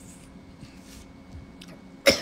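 A single short, sharp sneeze bursts out near the end after a quiet stretch with faint background noise, loud and close.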